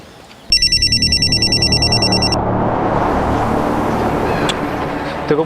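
A telephone bell rings loudly in a steady burst for about two seconds, then cuts off, leaving a wash of passing road traffic behind it.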